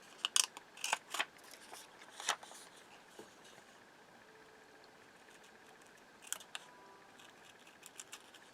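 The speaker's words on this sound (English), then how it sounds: "So I'm going to cut out those two pieces and we'll look at them together." Scissors cut out paper pattern pieces in a quiet room with sharp, crisp snips in short bursts, a pause in the middle, and a few more cuts at the end.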